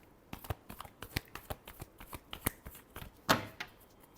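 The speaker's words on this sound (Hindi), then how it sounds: "Last shuffle." Tarot cards being shuffled, a quick run of crisp riffling flicks and slaps with irregular rhythm, close and clear, ending in a louder snap.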